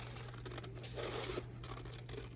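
Quiet, close-up snips and rasps of hand scissors cutting through paper or a transfer sheet for a relief plaque, a few short cuts over a low steady hum, with no talking.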